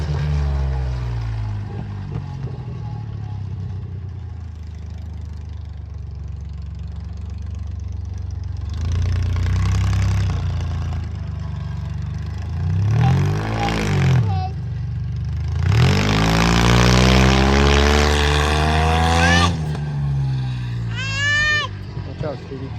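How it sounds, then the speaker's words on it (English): A car engine revs during a test drive, rising and falling in repeated bursts with loud climbing surges near the end over a steady idle, and people talk throughout. "give her car a little test run"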